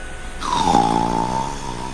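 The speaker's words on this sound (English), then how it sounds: "Your snoring is a bit, Loud?" A cartoon pony snores loudly in My Little Pony, one long rasping, rumbling snore that swells and then drones on, close and alone.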